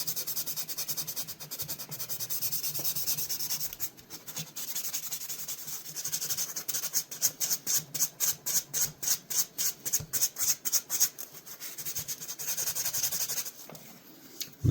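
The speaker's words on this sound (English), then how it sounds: "Just carefully rub here because you don't want to be rubbing on the covers there" Sandpaper rubbing back and forth over a pocket knife blade during a scout knife restoration, a steady close scratchy rasp that breaks into a run of quick rhythmic strokes midway, then settles back to continuous rubbing.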